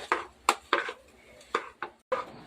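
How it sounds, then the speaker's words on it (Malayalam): Ration rice for biryani being roasted in a pan, a spoon or spatula scraping and knocking against the metal in irregular sharp strokes, close and alone. "അങ്ങനെ നമ്മുടെ റേഷൻ അരി വെച്ചുള്ള ബിരിയാണി റൈസ് വറുത്തുകൊണ്ടിരിക്കുകയാണ്"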